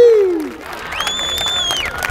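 Graduation crowd at Hamtramck High School in 2023 clapping and cheering, a broad steady wash of applause from a large audience after a voice fades out, with whistles rising over it.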